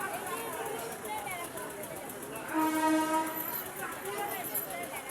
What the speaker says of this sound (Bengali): এইখান ট্রেনের জন্য এটা পাবলিক ট্রেন।